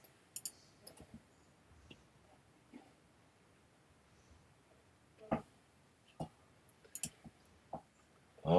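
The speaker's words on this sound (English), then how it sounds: "I'm typing feverishly into the live stream chat." Sparse, scattered keyboard clicks and taps sound in a quiet room, with a few short bursts of keystrokes separated by long pauses.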